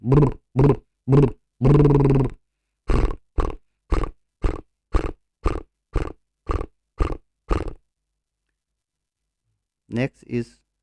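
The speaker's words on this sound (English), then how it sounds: "Next exercise is lip fluttering in a stage manner like this." A vocal exercise of lip fluttering in a stage manner: about fourteen loud, buzzing voiced lip trills in a steady rhythmic series, one held longer near the start, followed by silence and a brief voice at the end.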